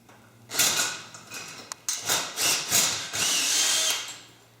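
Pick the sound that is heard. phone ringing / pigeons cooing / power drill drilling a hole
power drill drilling a hole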